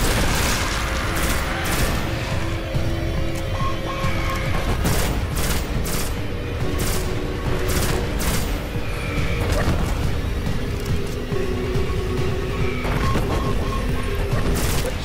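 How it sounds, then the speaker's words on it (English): Enemy gunfire in the shooter Destiny crackles in rapid repeated bursts, with sharp shots, booming impacts and mechanical clatter filling the whole stretch, loud and close, without talking. "Quit shooting at me."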